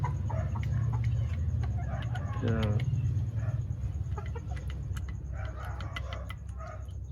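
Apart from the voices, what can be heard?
Allen Roundhead hen and chickens clucking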